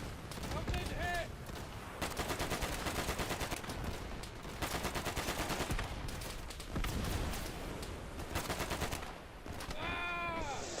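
Dense automatic gunfire in the World War II shooter game Easy Red 2 rattles in long, loud bursts with only brief gaps, and a player's voice can be heard faintly underneath the shooting.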